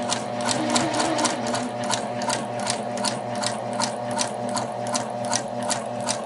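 A sewing machine stitches an inseam pocket in a steady, fast rhythmic run of needle clicks over a constant motor hum, close up and continuous with no talking.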